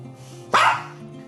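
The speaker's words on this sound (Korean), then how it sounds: "이러다가 또 짖을 거예요" A dog gives one sharp, loud bark up close in a quiet indoor room during a training session, then falls silent.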